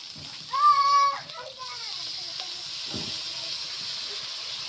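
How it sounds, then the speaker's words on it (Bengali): Water is added to hot spices, including Kashmiri chilli powder, in a pan for potol rosa, a pointed gourd curry. A steady steamy hiss follows a brief voice at the start and continues evenly to the end. "এখন আমি একটু জল দেবো।"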